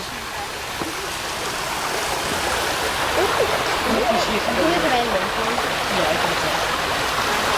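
An outdoor man-made stream along a walking path flows in a continuous broadband rush of water, steady and fairly close, with a voice speaking briefly over it.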